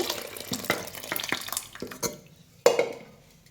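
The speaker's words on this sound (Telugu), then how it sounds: "కొంచెం వాటర్ కూడా వేసుకోండి" A utensil clinks and scrapes against a pot several times in uneven strokes as water is added and mixed into a dish, followed by a sharper splash-like clatter near the end.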